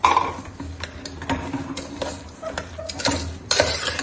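A spoon stirs sugar into cooked black kavuni rice sweet, making a steady run of close, moist scraping and sticky clicking sounds against the pan with no talk.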